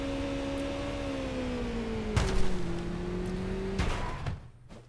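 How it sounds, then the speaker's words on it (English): A car in Totally Accurate Battlegrounds drives with a steady engine drone whose pitch sags slightly, broken by two thumping bumps or impacts before the engine fades near the end. "so we're in a car now"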